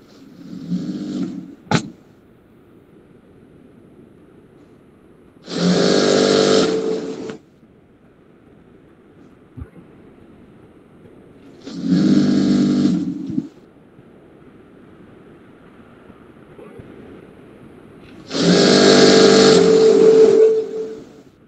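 Sewing machine stitching a half-inch seam on men's formal trousers, running in four loud bursts of about two seconds each, separated by quiet pauses.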